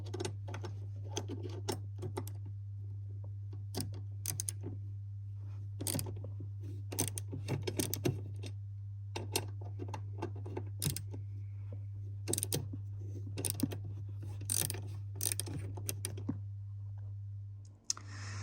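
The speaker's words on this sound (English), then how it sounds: "it is two T20 torque screws, so we're gonna go ahead and remove those" T20 Torx screws are removed from the bulkhead of a Porsche Cayman 981/718, producing scattered, crisp tool clicks in irregular clusters over a steady low hum.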